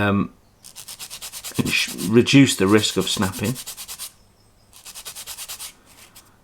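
Rapid back-and-forth rasping of 400-grit sandpaper on plastic model parts backed by a finger, close and steady in bursts, with someone speaking briefly between strokes.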